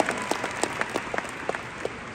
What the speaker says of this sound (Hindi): एक बार कृष्णा के लिए दोबारा ताली मार दो।